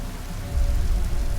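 Steady rainfall patters inside an indie horror video game, a dense wash of drops that swells slightly louder midway and keeps going without any voices.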